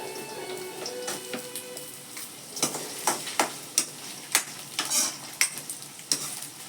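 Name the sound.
potatoes added and stirred into frying onions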